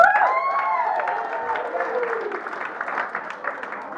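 Audience applause and cheering filling a room, starting with a voice over it and fading to steady clapping from a crowd.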